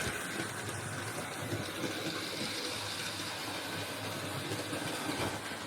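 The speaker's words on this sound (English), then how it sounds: "So we're going to just stop the locomotive." A model LNER A2/3 Chamossaire locomotive runs along its track with a steady, dense rolling rumble and faint rail clatter, close and continuous, with no talk.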